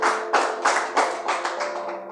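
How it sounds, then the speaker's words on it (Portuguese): A church congregation applauds for Jesus, a run of rhythmic clap bursts close and moderately loud, repeating about every third of a second and fading slightly toward the end. "Palmas para Jesus"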